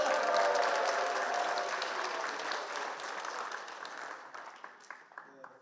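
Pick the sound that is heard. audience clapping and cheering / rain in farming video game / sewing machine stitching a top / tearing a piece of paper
audience clapping and cheering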